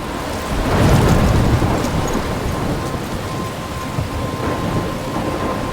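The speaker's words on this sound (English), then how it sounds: "I'm trapped in a storm?" Heavy rain pours steadily in a Life is Strange thunderstorm while a deep rumble of thunder rolls in early, loud and close, then fades back beneath the constant downpour.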